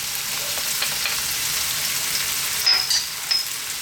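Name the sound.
onions and garlic frying in oil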